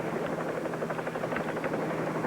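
A helicopter flies with a steady, rhythmic rotor thump and engine drone that stays close and constant, with no talk over it.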